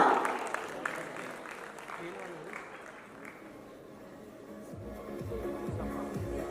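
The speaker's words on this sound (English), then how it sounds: "Can I have a huge round of applause, ladies and gentlemen?" Audience applause at an award event attended by Ameesha Patel, a scattered clapping swell at the start that thins out under a murmuring crowd and talk.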